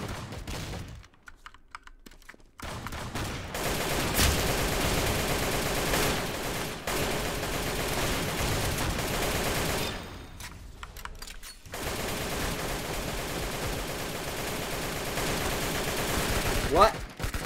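Rapid gunfire crackles through most of a video game match, sharp and dense, stopping for short gaps before resuming, with fast keyboard typing and clicking mixed in.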